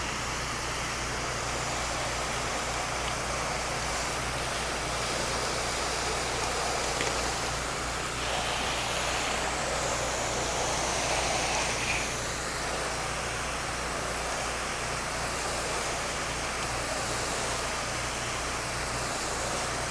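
A pressure washer sprays water across the side of a house, a steady loud broadband hiss of rushing spray that holds unbroken for the full stretch with no talking over it.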